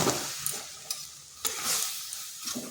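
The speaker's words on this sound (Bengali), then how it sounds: "এরপর এখানে দেব জল যে বাটিতে চালের গুঁড়ি নিয়েছি সেই বাটি আন্দাজ করে জল দিচ্ছি" Water is poured a little at a time onto rice flour frying in a pan. Each pour brings bursts of hissing sizzle, with soft scraping in between, close and fairly quiet.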